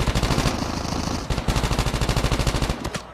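Automatic gunfire from a battle royale fight in the mobile shooter COD Mobile rattles in rapid, loud bursts with a brief pause midway.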